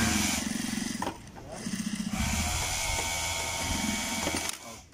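A sewing machine runs in quick, rhythmic bursts of rapid stitching as it sews along the edge of a trouser back pocket. Short pauses separate the runs, and a voice speaks nearby.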